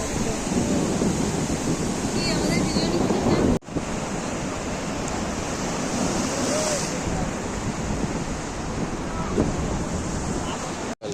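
Ocean waves wash onto the beach at Mandarmani at dawn, a continuous close roar of surf mixed with wind buffeting the microphone, briefly cut off once partway through.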